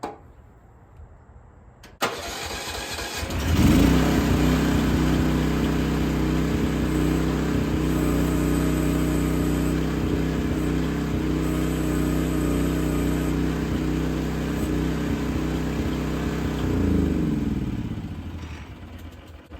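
Chinese mini excavator diesel engine starts after a quiet moment and runs steadily with a loud, close clattering drone during a hydraulic relief valve test, settling back slightly near the end.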